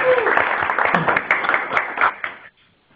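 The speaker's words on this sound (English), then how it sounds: "I think an applause for Ross." Short burst of applause and a few cheers for a colleague named Ross on a Mozilla Webmaker group call, dense clapping with voices mixed in for about two and a half seconds before cutting off abruptly to near silence.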